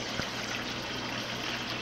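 Salted water pours steadily onto meat that is cooking and already giving off its juices, a continuous loud trickle and gush. It sounds close, with one brief knock near the start and no talking.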